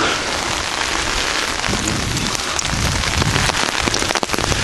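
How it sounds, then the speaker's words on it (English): Heavy rain pours down steadily, close and loud, with dense patter and occasional heavier drips hitting nearby surfaces. "You can probably hear the rain in the background."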